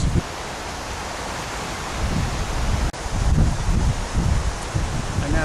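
Strong wind buffeting an outdoor microphone at a clifftop sporting event, a steady rushing roar that swells and gusts louder midway, with a brief dropout, and no other clear sounds.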